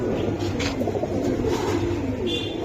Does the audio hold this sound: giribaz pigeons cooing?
yes